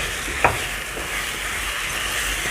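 Basmati rice being stirred in a pot with spices, onion and carrot, a brief scrape near the start over a steady low sizzle, with no talking.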